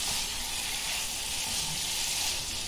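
Capsicum and chicken fry in a pan, giving a continuous bright, hissing sizzle at steady loudness with no talking.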